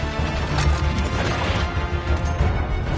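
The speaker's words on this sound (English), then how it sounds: "And now I get to shatter you." A frozen enemy shatters in a video game, a loud close crash of breaking ice and debris that keeps rumbling and crackling throughout, with no talk.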